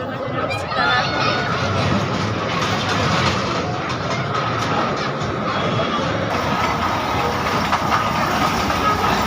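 A children's amusement-park ride train runs at DNCC Wonderland in Dhaka, a steady close rumble and rattle of cars that continues throughout, with a crowd chattering over it.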